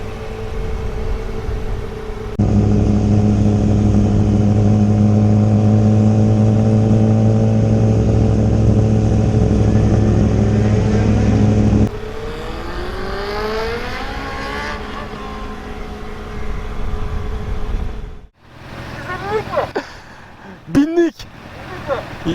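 A Kawasaki ZX10R and a Honda CBR650R, four-cylinder sportbikes out at night, hold a loud, sustained high rev. Then one sweeps past with falling pitch, followed by quieter idling and short throttle blips with some voices.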